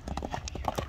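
A strong horse's hooves clip-clop in a quick, steady run of close, sharp beats.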